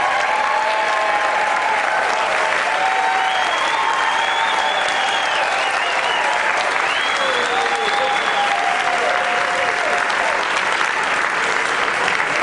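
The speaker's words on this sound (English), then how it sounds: "Give them a huge round of applause." An audience at a Berkeley theatre claps in a sustained, dense round of applause for City of Berkeley staff, the clapping loud and even throughout.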